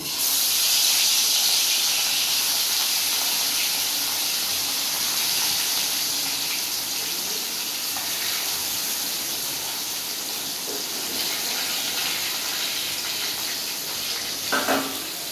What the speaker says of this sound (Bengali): এবার আমি ওই বেরেস্তা ভাজা তেলের মধ্যেই মাছগুলোকে দিয়ে লাল করে ভেজে নেব